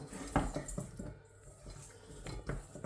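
Oiled and salted potato chips tossed in a bowl, giving a close, busy clatter and scraping with soft rustling over nearly three seconds, no voices.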